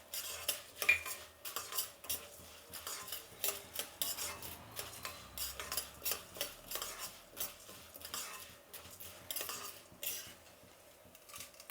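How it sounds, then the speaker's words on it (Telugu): Cumin seeds go into a pan of frying urad and chana dal for Karnataka-style sambar and get stirred, with light metallic scraping and clinking of a spoon against the pan in a quiet, steady rhythm. "ఇప్పుడు జీలకర్ర వేసుకుందాము."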